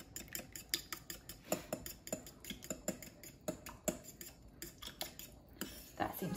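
Taco soup ladled out of a pot, with repeated sharp metallic clinks and scrapes of a utensil against the pot at an irregular rhythm, close and fairly quiet, no talking.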